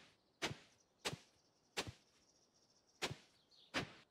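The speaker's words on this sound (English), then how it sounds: "now I'm just going to do a spot of hoeing" Five hoe strikes on soil in the farming game Stardew Valley, evenly spaced about every two-thirds of a second, each a short crisp chopping thud, fairly quiet with nothing else heard.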